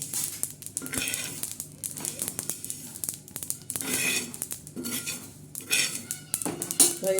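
Roasted sesame seeds being scooped from a hot pan while making sesame chutney, with repeated close scraping and clinking of a metal spoon against the pan, soft rustling grains between strokes.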